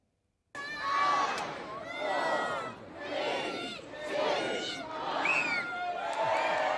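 Big outdoor crowd at the annual Winchester Christmas light switch-on, cheering and whooping loudly in swelling waves, with excited shouts and children's voices mixed in, starting abruptly after a brief silence.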